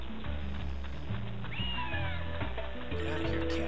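Game-world cat meowing in Naruto Shippuden Ultimate Ninja Storm 2, a couple of rising meows over steady background music and ambient game sounds, with a faint voice underneath.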